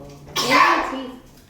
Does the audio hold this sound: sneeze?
yes